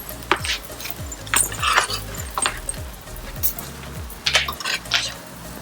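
Eggplant fritters set onto a plate outdoors in a garden, with repeated clinks and knocks of crockery and utensils in an uneven rhythm, some sharp and close.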